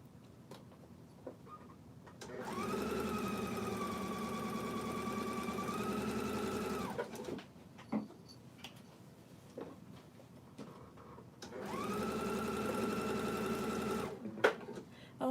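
A sewing machine stitches the strips of a log cabin quilt block in two steady runs of several seconds each, with someone talking in the quiet gap between them.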